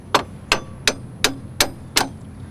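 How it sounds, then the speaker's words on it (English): A hammer taps a CV axle six times in an even rhythm, each strike a sharp metallic clang that rings briefly, close and loud with no talking. "take your hammer and tap it a little bit"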